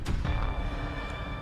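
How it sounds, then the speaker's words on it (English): Deep rockfall rumble from a mine collapse in the video game Scarlet Hollow, a short, steady low roar that shakes through the whole moment, with faint tonal sounds above it. "that is the sound of a mine collapse"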